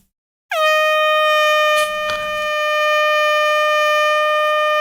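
A loud air horn sound effect played on a live trading stream blasts a single sustained, steady tone for several seconds, with a short burst of noise partway through.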